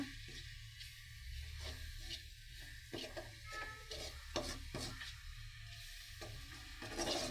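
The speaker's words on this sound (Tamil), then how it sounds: "இதை ஆட் பண்ணிவிட்டு இது எண்ணெயிலேயே நல்லா ஒரு பரட்டுக்கோங்க, கலரிக்கோங்க" Ground spice paste frying and being stirred in hot oil for a Tamil fish gravy, a steady close crackling sizzle with soft scraping strokes of the spoon running throughout, no voices.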